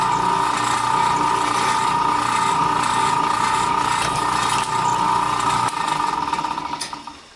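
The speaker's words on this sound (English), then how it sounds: "Let's go ahead and see if we can't drill a hole through this thing." A cobalt drill bit bores dry through a cheap, soft, non-heat-treated machete blade, a steady loud grinding whine with a sharp metallic tone that holds for about six seconds before tapering off.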